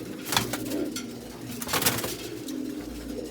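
Giribaz pigeons coo steadily in a loft, soft low rolling calls repeating and overlapping close by, with a few brighter rustles and wing or feather sounds mixed in.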